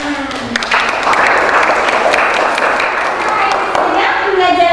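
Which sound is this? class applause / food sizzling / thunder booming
class applause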